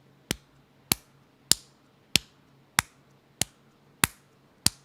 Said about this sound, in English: It's most simply expressed with a simple clap.